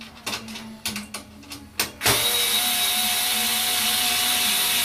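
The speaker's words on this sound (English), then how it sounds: "you want to remove the screws" Short bursts of a cordless driver backing screws out of a Breezaire Sentry III controller, several brief whirs in a row followed by a long, steady, loud motor run, close up with no talking.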